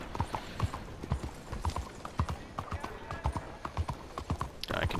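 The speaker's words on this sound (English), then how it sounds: "I continue riding down the fence." Horse hooves clip-clopping at a steady trotting rhythm while riding along a fence in Red Dead Redemption 2, close and distinct, with a faint background voice and a brief rustle near the end.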